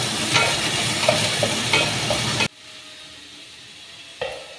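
Thinly sliced onions sauté lightly in a pan over low heat for chicken thoran, a steady loud sizzle with stirring that suddenly cuts to near quiet, then a short clatter near the end.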